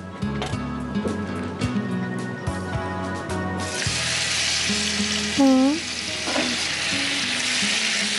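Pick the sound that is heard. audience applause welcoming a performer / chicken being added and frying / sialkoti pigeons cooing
chicken being added and frying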